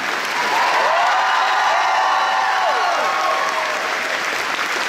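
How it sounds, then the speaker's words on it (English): A theater audience at a country Christmas concert gives sustained, loud applause that fills the room evenly from start to finish, with a faint whistle or cheer rising over it. "Can you give them a round of applause, please?"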